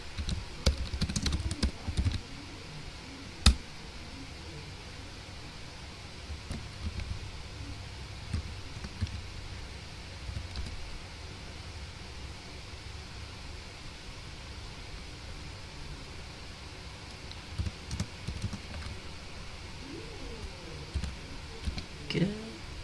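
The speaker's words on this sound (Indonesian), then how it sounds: "Kita ketik aja di command window ya." Computer keyboard typing into a software command window during a control systems lab session, scattered quiet clicks and key taps over a steady background hiss, with a few louder strikes, and speech in between.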